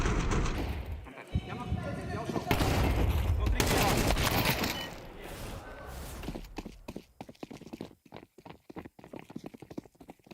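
Rapid gunfire from a Counter-Strike match, with dense bursts of shots that swell loud in the middle, then sharp separate cracks toward the end, heard under commentary.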